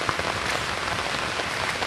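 Rushing water pours down from above after heavy monsoon rain, a dense, even wash of noise with no pauses and no voices.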